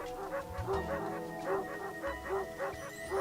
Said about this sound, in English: those dogs barking is a little annoying